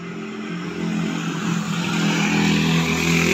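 A bus drives along a road in Aceh at night, its engine a steady low rumble that grows louder and revs up as it passes close by.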